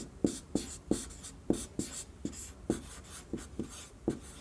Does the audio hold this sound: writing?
yes